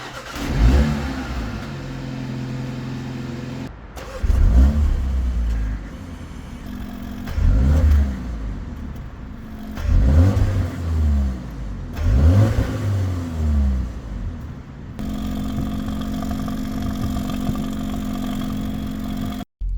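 A 2024 MINI Countryman JCW U25 heard from outside, its muffled engine and exhaust revving in several distinct swells and dips over a low idle, close by with no voices.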